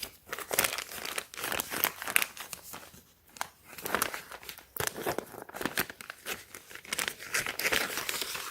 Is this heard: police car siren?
no